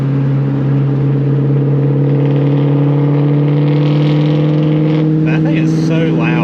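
Loud Ford Mustang S550 V8 droning with a strong, steady low-pitched exhaust tone, rising toward the end as it accelerates, heard from close range while someone speaks over it.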